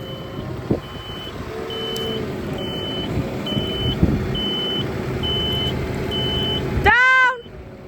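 A Kramer four-wheel-steer loader reverses through a tight space, its evenly spaced reversing beeps repeating over a low diesel engine rumble, followed by a sharp rising electronic warble near the end; no talk is heard.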